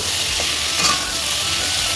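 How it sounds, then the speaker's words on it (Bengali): Potato and pointed gourd slices fry in a pan, giving a steady close sizzle throughout with a brief stir near the middle. "আলু পটল ভাজা হচ্ছে"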